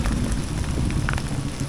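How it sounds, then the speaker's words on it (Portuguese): Steady rain pours down after a long dry spell, a dense continuous hiss of drops drumming on surfaces, loud and unbroken throughout. "É chuva, é chuva."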